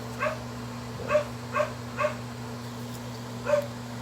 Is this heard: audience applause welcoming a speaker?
no